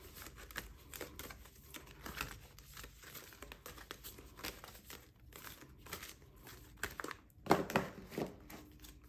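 Paper rustles and crinkles in quick, irregular bursts as cash and budgeting envelopes are shuffled by hand up close, with a louder flurry near the end.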